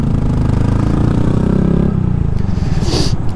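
Vehicle engine revved loudly and close by, a rough rumbling roar swelling and dropping with mechanical clatter, driven past open windows in Santa Monica.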